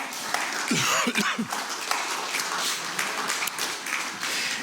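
A church congregation claps during a Spanish-language Bible study, a few seconds of dense, steady applause filling the room at moderate volume, with a brief vocal sound near the start.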